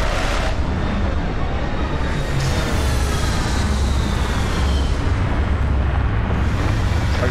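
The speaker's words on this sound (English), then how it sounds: "Retro's firing." Spaceship retro rockets firing during a landing in the game Starfield, a loud continuous roaring rumble with deep low-end thrust and hissing, steady throughout without a break.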